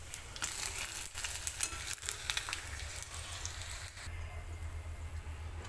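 Sago papad frying in hot oil gives a steady, bright crackling sizzle with small pops, fairly close and continuous throughout, with no speech.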